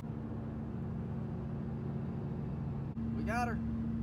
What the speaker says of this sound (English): And man, this road is freaking loud.